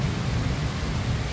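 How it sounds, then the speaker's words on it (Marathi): Rain falling during the first rain of the season in late June in Maharashtra: a steady, even hiss with no voices. "आमच्या इकडे बघू शकता आज पावसाने हजेरी लावलेली आहे."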